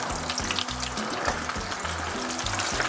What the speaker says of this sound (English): Like you can hear the sizzling.